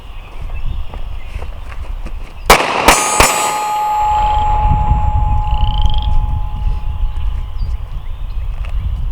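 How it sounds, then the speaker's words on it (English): Two sharp pistol shots from a Beretta APX Centurion at an outdoor shooting range crack in quick succession, with ringing metallic echo, over steady background noise and rustling. "Let's shoot this Centurion some more."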